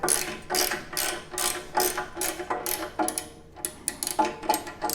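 A hand ratchet tightens skid plate bolts on a Yamaha XT 1200 Super Tenere motorcycle, its pawl giving loud, close bursts of rapid clicking that come in repeated strokes with short pauses between them.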